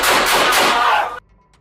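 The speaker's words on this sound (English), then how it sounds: "He immediately opens fire on the officers." Rifle fire in a firefight inside a house: a loud, dense burst of rapid gunfire that cuts off abruptly, leaving a brief low ringing tail.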